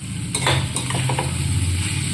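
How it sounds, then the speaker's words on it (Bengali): Ginger, garlic and green chili paste sautés in a pan for chicken cocktail sausage curry, a close, steady sizzle with a few sharp scraping stirs early on and no talking. "আদা, রসুন, কাঁচা লঙ্কা দেওয়ার পর আমি একটু ভালো করে কষিয়ে নিলাম"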